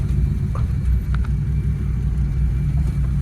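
A 1979 Volare wagon, pulled from a junkyard after four years of sitting, rolls away with a steady low rumble and a mild engine drone, close and continuous, with no voices.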